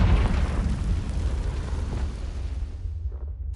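Confringo blasting spell explodes in Hogwarts Legacy, a loud booming burst with heavy low rumble that rolls on and slowly fades over a few seconds.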